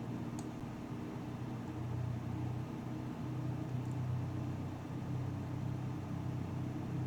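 A light aircraft engine in Microsoft Flight Simulator 2020 runs steadily at about 1000 RPM after throttle-up, a continuous low droning hum with no speech, even in level throughout.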